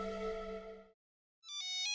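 A cell phone ringtone plays electronic tones, a sustained chime that stops, a brief silence, then a bright beeping melody starting again, close and clear.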